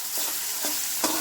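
Bitter gourd and onion fry in white oil, giving a continuous hissing sizzle broken by three soft stirring strokes, close and alone without speech.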